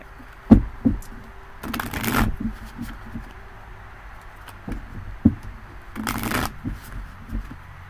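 Tarot cards being shuffled by hand, two bursts of riffling about four seconds apart, close and clear, with soft taps and knocks of the deck between them and no talking.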